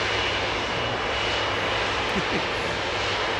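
An easyJet jet airliner departing Manchester Airport for Milan gives a continuous broad roar of engines, steady and fairly loud from a distance, with no voices over it.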